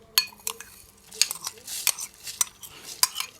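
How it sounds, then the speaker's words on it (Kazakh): A spoon scrapes and clinks against the sides of a pot as vegetable and pike fish soup is stirred, giving a series of sharp metallic knocks in an irregular rhythm. "Барлығын араластырып, көкөністер піскенше қайнатамыз."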